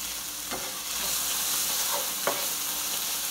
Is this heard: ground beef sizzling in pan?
yes